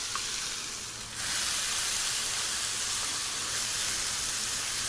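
Sofrito vegetables hit hot oil in a pan over medium-high heat, a brief quieter moment then a loud, sustained close sizzle and hiss.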